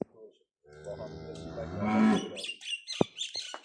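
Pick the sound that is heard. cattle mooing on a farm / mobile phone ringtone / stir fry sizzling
cattle mooing on a farm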